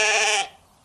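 A goat gives a single short, loud, nasal bleat in a Chuvash folk tale, about half a second long and fading out quickly.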